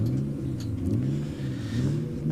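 Drift cars idle and rev on the start line at a British Drift Championship event, a close, loud engine note rising and falling in short throttle blips with no talk.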